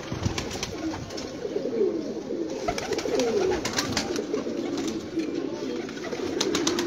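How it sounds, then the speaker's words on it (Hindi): Pigeons kept by a fancier in a loft, with soft overlapping cooing and rustling close by, steady throughout with sharp ticking noises scattered on top. "आ देखो कबूतर माशाल्लाह"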